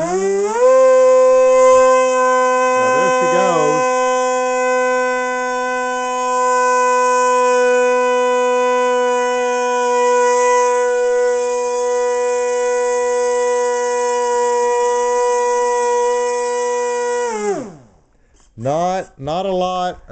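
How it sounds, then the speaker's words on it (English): A model airplane's electric motor is run up to full power: a loud, steady whine with strong harmonics that holds for about seventeen seconds, wavers briefly early on, then spins down with a falling pitch and a few short blips at the end. "Now I'm going to crank up the motor and we'll see."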